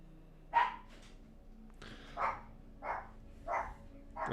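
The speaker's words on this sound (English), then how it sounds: "And there goes the dogs." Several dogs bark in separate bursts a short distance away, with a pause and then a run of evenly spaced barks, fairly faint against a quiet indoor background.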